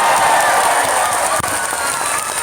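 Dense crowd applause at a big Islamic religious gathering in Taichung, Taiwan, a steady wash of clapping and faint cheering, loud and close for the whole short stretch.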